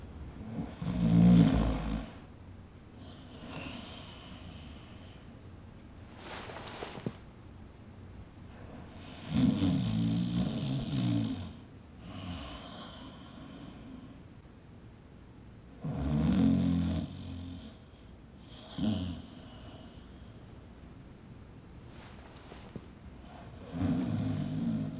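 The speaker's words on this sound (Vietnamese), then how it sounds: "sợ tiếng ngáy của cô làm phiền tôi" A sleeping woman snores in long, heavy rasping breaths, four or five loud snores spaced a few seconds apart with quieter breathing between them, close and alone with no talk.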